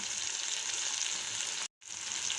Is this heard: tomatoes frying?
yes